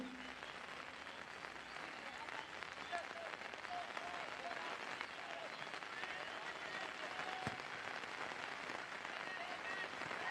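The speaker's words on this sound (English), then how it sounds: "Still heavy rain pouring in." Heavy rain pours down steadily through an Odisha versus Mizoram football match, a dense continuous hiss that stays loud and even across the whole stretch, with no talk over it.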